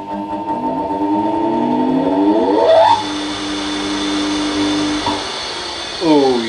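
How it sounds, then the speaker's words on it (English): A three-phase electric motor wired to run from a 240 V mains socket spins up with a rising whine, runs steadily with a hum, winds down and then starts again near the end, loud and close. "Right, this is it, the final test of the wiring of this motor. All good, I switched it on and no one died."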